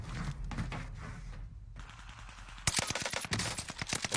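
Rapid automatic gunfire from a video game crackles in quick bursts, first a faster volley, then after a short gap a louder string of sharp, evenly spaced shots.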